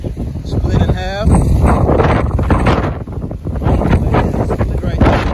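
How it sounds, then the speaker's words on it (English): Strong wind from Hurricane Ida blowing through a garden of okra and pineapple, roaring and buffeting the microphone loudly throughout, with a person talking over it. "The wind is so intense."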